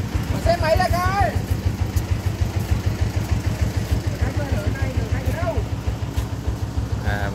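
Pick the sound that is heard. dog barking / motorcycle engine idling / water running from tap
motorcycle engine idling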